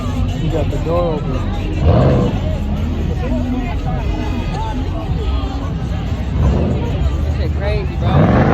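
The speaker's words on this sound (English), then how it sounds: "cars revved their back wheels, creating smoke" Cars rev their engines during a highway drifting takeover, spinning their rear wheels, as loud surging engine roars rise and fall over crowd noise and excited chatter.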